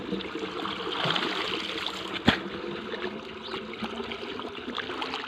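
Irrigation water runs along a channel beside a cumin field, making a steady, gurgling rush close by with one brief thump partway through and no talking.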